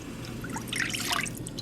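Melted agar-agar orange jelly mixture is poured and leaks, giving soft close trickling and scattered dripping splashes that build slightly midway, with no voices.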